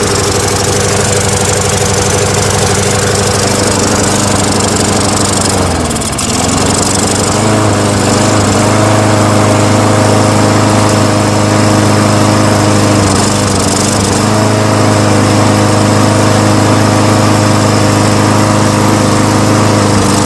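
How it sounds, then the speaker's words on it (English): A gas-leaking lawn mower engine runs loud and close the whole time, a steady droning idle with a brief dip in pace partway through, and no voices. "I'm gonna try to start it now and then clamp it off."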